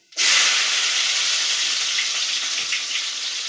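Shallots (small onions) dropped into hot oil with popping mustard seeds, giving a sudden loud, steady sizzle that starts abruptly and holds evenly, alone without talk, while a fish puttu dish is being cooked.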